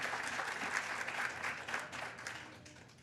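An audience applauds steadily to welcome a speaker to the stage at a community cultural event, a dense close clapping that gradually fades toward the end.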